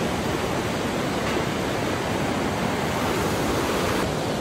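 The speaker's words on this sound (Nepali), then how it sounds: "हावा आइरहेको छ" Steady wind roars outdoors in the hills, a constant broadband rush buffeting the microphone throughout with no pauses or voices.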